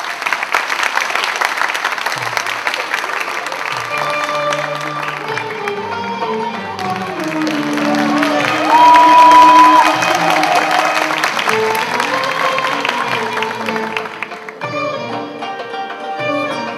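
Audience applause for a singer leaving the stage at a live concert, a steady wash of clapping and crowd noise filling the room, rising to a peak midway before easing off toward the end.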